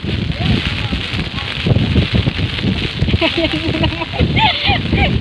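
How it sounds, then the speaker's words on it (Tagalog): Strong gusts buffet the microphone on a bridge in Taiping with heavy rumbling wind noise while people talk nearby. "At grabe yun na naman yung hangin."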